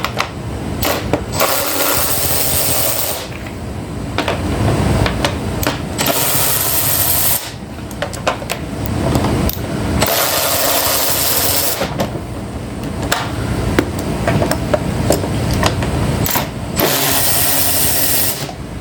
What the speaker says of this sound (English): I like to take my M12 ratchet with a long extension and an 8mm socket and come down on each of these bolts.